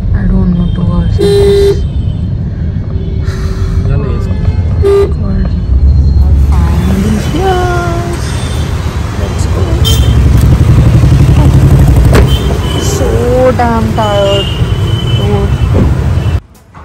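Busy street traffic drones loudly with engines and motorcycles, and repeated car horns toot and honk close by throughout, some in quick double blasts.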